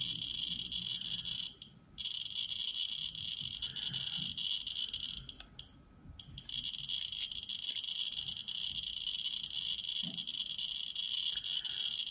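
A Geiger counter detecting alpha radiation gives off a dense, rapid chirring stream of clicks. The sound holds steady, with one short gap and one longer gap before it resumes.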